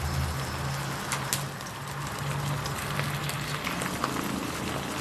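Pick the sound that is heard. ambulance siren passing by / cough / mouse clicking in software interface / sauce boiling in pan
sauce boiling in pan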